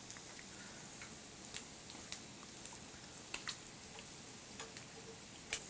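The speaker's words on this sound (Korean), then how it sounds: "이제 튀기기만 하면 끝인데" Steady faint crackle of shrimp toast deep-frying in oil, with scattered sharp pops and ticks over a soft hiss.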